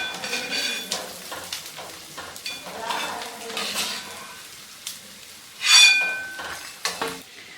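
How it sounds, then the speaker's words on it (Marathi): Sabudana vadas frying in hot oil, a steady crackling sizzle with bubbling bursts and occasional louder spits, close and moderately loud, with no talking. "अशा प्रकारे आता हे वडे तळून घ्यायचे आहेत"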